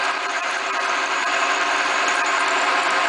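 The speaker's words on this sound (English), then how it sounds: "we're going to drill right down through there." A drill bit bores through a motorcycle part, producing a steady, continuous high whine with grinding texture, close and fairly loud throughout, with no voices.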